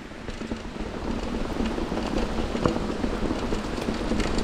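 Steady rain patters on a surface nearby on a valley trail in Moanalua, a constant dense wash with faint wind underneath and no talking.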